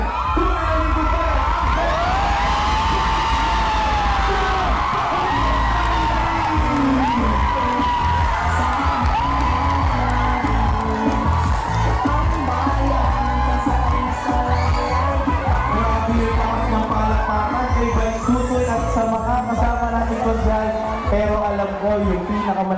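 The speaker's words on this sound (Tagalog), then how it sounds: "yung pinakamalakas na palakpakan at sigawan dito ko maririnig" Loud crowd cheering, whooping and applauding at a 2025 election candidacy filing in Tanza, Cavite, a dense continuous roar with shouts and voices throughout, sustained at full level.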